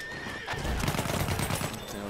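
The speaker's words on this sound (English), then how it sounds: "Watch out, there's a horse" A horse neighs loudly and nearby in the World War I shooter Battlefield 1, a rising whinny over hoofbeats with scattered gunfire in the background.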